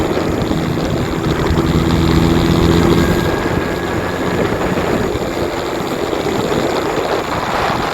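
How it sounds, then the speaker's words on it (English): A new Entercom vehicle's engine revs high in low gear while driving through Cook's Forest, making a loud, steady droning roar that swells slightly midway and holds without a break. No one speaks. "I'm revving a little high, but I don't want to go to second"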